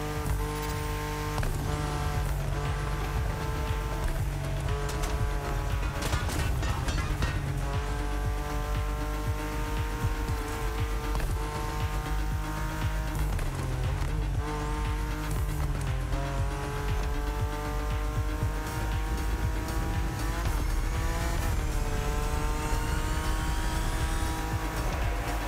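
Race cars in a The Crew Motorfest race, engines roaring steadily with rising and falling revs, gear shifts and brief tire squeals, loud and continuous throughout.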